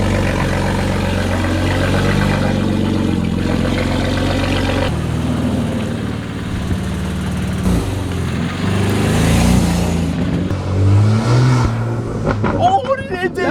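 A BMW G80 M3 fitted with a full valve exhaust and catless downpipe accelerates hard, its loud engine roar rising and shifting through gears under excited voices.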